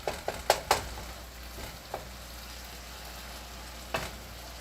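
Meat fries in a pan, nearly done, with a quiet steady sizzle broken by a few sharp utensil clicks early on and one more near the end, no voices.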